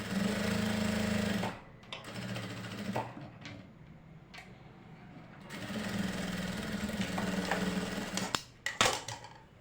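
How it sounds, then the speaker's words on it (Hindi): A sewing machine runs a straight seam on a kurti in steady bursts, loud and close, pausing briefly between runs of rapid mechanical stitching. "तो सीधी सिलाई लगा लेते हैं हम"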